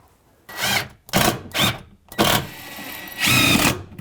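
Screws are driven one after another to fasten plywood to cabinets for a wood countertop, a power driver whirring in five short bursts of varying length with brief pauses between them.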